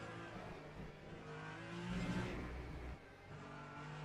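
A hypercar engine in the Le Mans Ultimate racing game at Monza, a faint steady drone that swells and rises in pitch as the throttle opens, then drops away abruptly near the end.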